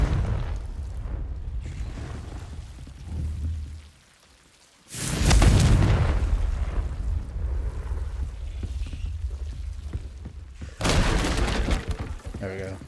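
A Confringo blasting spell exploding in the video game Hogwarts Legacy: two loud, sudden bursts of crackling, shattering noise, each lasting a second or so, set against a rumbling ambient game soundscape with a player's speech mixed in.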